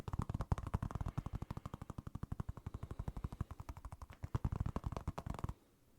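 Rapid, even tapping on balls during an ASMR ear-exam hearing test, a close, steady stream of quick dull knocks lasting about five seconds before stopping.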